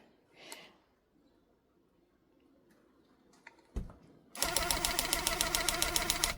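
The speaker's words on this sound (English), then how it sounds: "I'm just walking the gun up the fabric" Tufting gun running loop pile lines through fabric, starting abruptly after a few quiet clicks and then holding a loud, rapid, steady mechanical ticking buzz up close.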